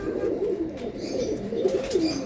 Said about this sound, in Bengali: এটা হলো ভাই দুরন্ত একটা কবুতর।